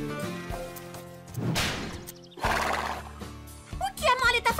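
A horse in an animated series whinnies loudly twice, with hooves clip-clopping between the neighs and voices talking over them.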